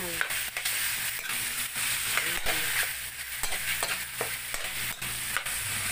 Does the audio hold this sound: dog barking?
no